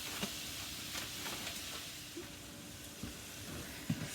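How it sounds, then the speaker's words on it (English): Four tablespoons of butter melting in a pan while pasta cooks, giving a soft, steady sizzle and hiss with a few faint clinks, fairly quiet and without talk. "4 tablespoons of butter to it and just let it melt."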